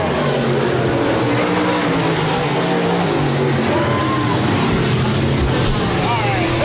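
Stock cars in a heat race at Rapid Speedway roar continuously and loudly, with layered engine drones from several cars blending into one dense, unbroken wall of racing noise.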